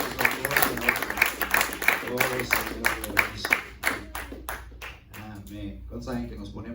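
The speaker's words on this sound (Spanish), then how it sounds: "Un fuerte aplauso al Señor" A church congregation claps for the Lord, with sharp rhythmic handclaps in a steady beat alongside voices, then loosening into scattered claps as the applause fades.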